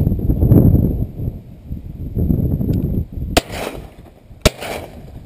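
A double gunshot during gun dog training: two sharp, loud cracks about a second apart, each ending quickly, following several seconds of low outdoor rumble and wind.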